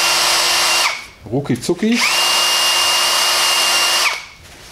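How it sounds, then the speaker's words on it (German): A power sanding pad with fine sandpaper cleans a front brake part on a Renault Megane 3 / Scenic, giving two long, steady, loud whirring runs with a brief gap between them where someone speaks. "dann habe ich jetzt hier so ein Schleifpad, da könnt ihr ganz feines Schmirgelpapier nehmen"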